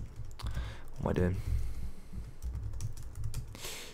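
Keys clatter on a computer keyboard as commands are typed into a Linux server terminal, coming in quick soft bursts of clicks close to the microphone, interrupted by a short spoken phrase.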